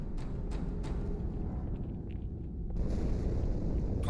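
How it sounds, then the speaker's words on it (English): A deep, sustained explosion rumble aboard the Athens ship in Halo 2, loud low-end roar rolling for the whole stretch and swelling slightly near the end, with no voices over it. "Die Explosion kam aus dem Innern der Athen, genau wie bei der Malta."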